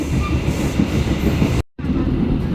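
The KA Lokal Merak local train runs on the rails in Indonesia with a loud, steady, close rumble and rattle, broken by a momentary dropout.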